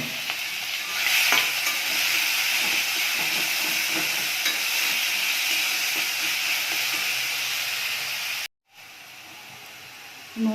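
Beetroot paste fries in oil with black cumin and green chillies in a kadai, making a loud, steady, close sizzle and hiss that runs almost unbroken, cutting out briefly near the end, with no talking.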